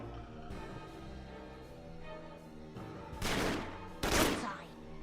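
Two heavy bursts of gunfire erupt in a video game shootout with drug smugglers, loud and booming against a quieter bed of background game sound.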